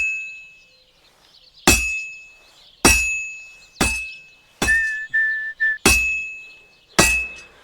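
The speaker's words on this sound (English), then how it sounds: "Now take the hammer and try hitting it a few times." Hammer blows ring against a heated sword on an anvil at a blacksmith's forge in Kingdom Come: Deliverance 2, six loud metallic clangs spaced about a second apart, each leaving a bright ringing tail, with a brief whistling tone between strikes.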